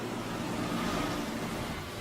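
Stormy sea waves roar during Hurricane Sandy off the Rockaway Peninsula in Queens, New York, a dense and continuous wash of surf and wind that stays loud and unbroken for the whole short stretch.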